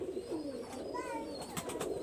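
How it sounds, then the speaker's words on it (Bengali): A female Kamagar pigeon gives a short, close cooing call, a steady throaty murmur with a few brief higher chirps, with no talk over it. "একটা কামাগার কবুতর,"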